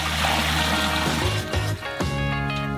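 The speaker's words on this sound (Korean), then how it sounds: "큰 냄비에 물을 부어주세요." Water pours steadily and loudly into a metal pot, a continuous splashing rush with slight changes in tone as it fills.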